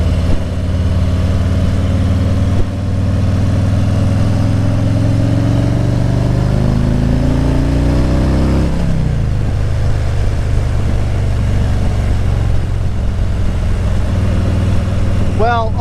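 Motorcycle engines rumble and rev at the 2021 Daytona Bike Week rally, a loud, continuous low drone with one engine's pitch climbing as it accelerates and then dropping away.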